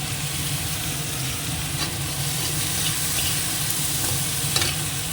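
Onion, garlic and ginger fry in a pan with a steady, dense sizzle that holds at an even level throughout.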